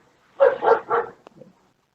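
A dog barks three times in quick succession, fairly close and loud, then gives a softer short yip; no one speaks.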